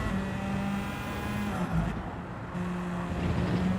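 Race car engine in the Gran Turismo video game, loud and close, holding high revs with a brief dip and a gear-change hiccup before climbing again, with a hint of tyre squeal.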